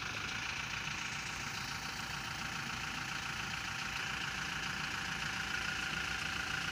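A car engine idles steadily during a parking driving lesson, practicing pulling into and out of a parking bay; a faint, constant low hum with no talk, distant and even throughout.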